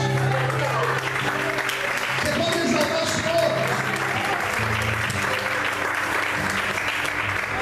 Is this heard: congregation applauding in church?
yes